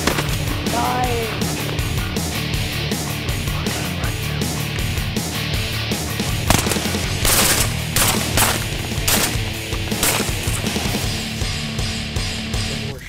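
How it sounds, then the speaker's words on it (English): Shotgun fire on a South Texas teal duck hunt near Garwood: a long, dense volley of loud, sharp blasts from several guns, some overlapping and some spaced apart, ringing out over about thirteen seconds. "More shells. Good shooting, guys."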